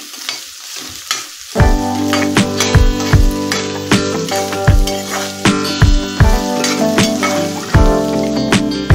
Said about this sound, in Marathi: कांदा आपल्याला चांगला परतून घ्यायचा आहे। मीडियम गॅसवर 2 ते 3 मिनिट परतून घ्यायचा आहे।